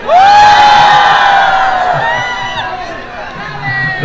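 Crowd at a concert at the 2022 Soteapan fair in Veracruz, shouting and cheering loudly, a sustained roar of voices and whoops that slowly fades then swells again near the end.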